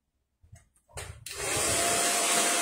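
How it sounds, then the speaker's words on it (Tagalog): A hair dryer switches on and blows steadily with a loud, constant rushing whoosh while blow-drying a layered haircut, preceded by a few brief handling noises. "Pag binablower niyo rin po."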